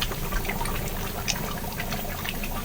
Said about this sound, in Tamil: சலப்புல சலப்புல வேகுது